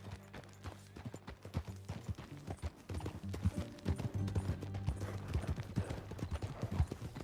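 Rhythmic clip-clop of horse hooves trotting in the video game Red Dead Redemption 2, over a low hum, quiet and steady throughout, with no voices.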